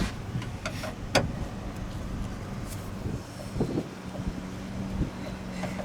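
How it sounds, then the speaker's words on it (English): Outdoor wind buffets the microphone beside a junkyard truck project, a steady low rumble broken by a few soft knocks and bumps, with no one speaking. "I might actually take this around the corner where there's less wind."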